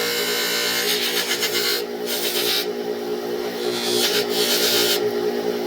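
A buffing wheel with buffing compound polishes the setting for a gray-based opal, a steady motor whine with bursts of brighter friction hiss as the piece is pressed to the wheel, close and fairly loud.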